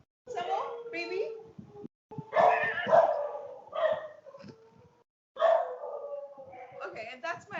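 Two pet dogs, one named Coco, howl together at a balcony in wavering, high-pitched bursts separated by short pauses, with a person talking over them.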